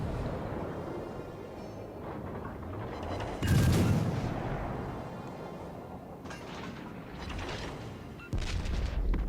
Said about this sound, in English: Now get a few shots out, turning to dodge incoming shells, and just keep firing.